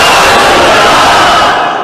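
Large religious rally crowd roaring a slogan in unison, a loud dense wall of voices that fades slightly at the end.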